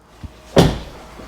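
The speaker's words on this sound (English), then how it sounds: "I'm going to shut the door." A single solid thump of a Tesla car door being shut nearby, with a faint softer knock just before it and a quiet one after.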